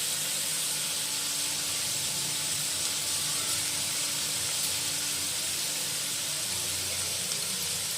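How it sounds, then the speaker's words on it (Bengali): Water at a rolling boil in a cooking pot, a continuous loud hiss and bubbling steam with no pauses, steady and close. "জল কিন্তু ফুটে গেছে"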